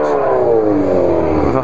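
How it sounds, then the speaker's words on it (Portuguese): A Honda CB1000R motorcycle engine revs loudly and close through its exhaust, a rough, throaty roar that holds steady and then slowly drops in pitch. "Ignorância de escapamento, né?"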